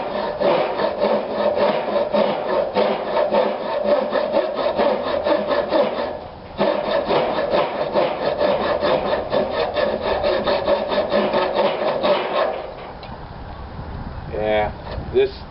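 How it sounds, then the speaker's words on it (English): A compass saw cuts through tough wood for a DIY war club or cane, with rapid, rhythmic back-and-forth rasping strokes and one brief pause, close and loud. The strokes stop near the end, leaving softer handling noise. "That compass saw does not want to mess with it."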